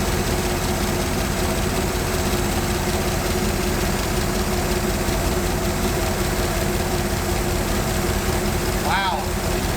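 Engine of an abandoned 1974 fire truck, run again after 15 years on old gas, idling steadily with a constant low rumble throughout, with a brief voice near the end.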